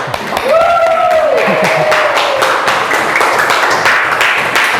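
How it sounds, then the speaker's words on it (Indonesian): A classroom of junior high school students clapping hands together in rhythmic bursts, mixed with a voice and a sliding tone throughout. "Tepuk tangan buat kita."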